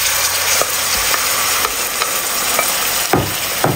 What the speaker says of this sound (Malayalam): ഇനി ഇതിലേക്ക് ഉടച്ച് വെച്ച് ഉള്ളി ചേർത്ത് കൊടുക്കാം.